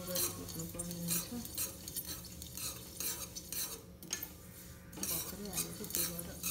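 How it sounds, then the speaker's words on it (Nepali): Sesame seeds roasting in a pan and being stirred with a metal utensil, giving a steady run of soft scraping and light clinks against the pan with a faint sizzle underneath, quiet and close. "मैले सिलाम हालेर भुट्न थालिसकेँ।"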